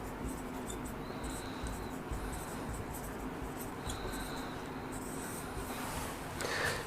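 Pen writing notes on paper, quiet scratchy strokes in short bursts against a low room hiss, with no one talking.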